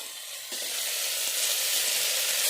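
Onion, tomato and ginger sizzle loudly in a hot pan. The frying hiss jumps up sharply after half a second and then holds as a close, steady roar with no talking.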